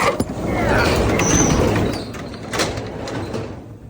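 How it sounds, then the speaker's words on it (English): A large shop door slides open with a long scraping rumble, followed by a few clanks as it settles, on a rainy day. "I'll open the door for you."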